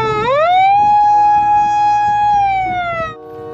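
Toy ambulance siren wailing in a steady electronic tone, a rising sweep settling into a long held loud note that drops off near the end, close up with no talk.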